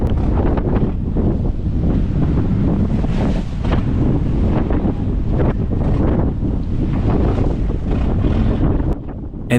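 Strong storm wind buffets the microphone with a constant loud roar while sea waves crash and wash around a small fishing boat moving at about 7 knots, with no talking.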